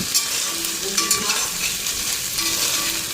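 Eggplant and fish fry together in a pan with loud, continuous close sizzling, crackling oil and occasional stirring clinks, with no talking heard.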